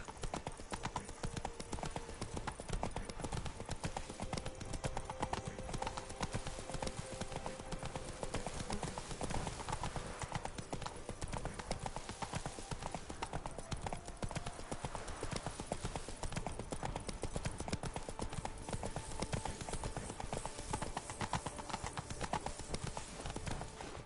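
Horse hooves clip-clop in a steady, continuous rhythm in The Witcher video game, close and fairly quiet, with faint voices underneath.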